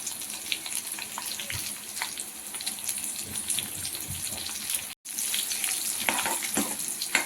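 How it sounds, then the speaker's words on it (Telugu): Garlic and dried red chillies fry in hot oil with a steady, crackling sizzle that runs close and continuous, broken by a brief drop in sound near the end. "ఇలా ఎండుమిర్చి, వెల్లిపాయ బాగా ఫ్రై చేసుకోవాలండి."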